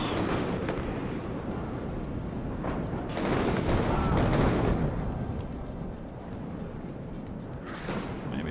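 Bombs explode repeatedly in WARNO, a dense rumbling barrage of overlapping blasts and booms that swells and fades across the battlefield without pause.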